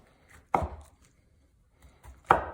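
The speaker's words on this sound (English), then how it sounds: "we'll bring in our knife and we'll start cutting these into smaller size pieces" Two sharp knife chops through chicken cucumber rolls on a cutting board, spaced about two seconds apart, close and crisp with quiet pauses between.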